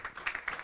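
Brief, faint applause from an audience at a health-tech venture capital panel, a handful of soft clustered claps with no talking.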